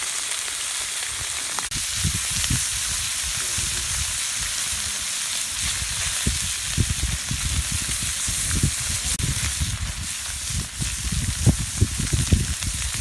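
Fresh fish fries in hot oil, with a loud, constant sizzle and bursts of bubbling crackle that rise and fall throughout.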